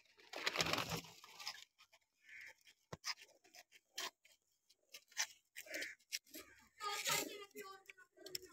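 Pigeons coo and flutter close by in short, scattered bursts, with quiet rustling and clicks between the calls.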